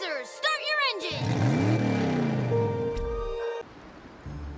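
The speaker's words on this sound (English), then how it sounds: "Racers, start your engine!" Race car engines rev and whine up at the start of a Team Sonic Racing race, loud sweeping engine tones rising over game music and effects after a brief voice line.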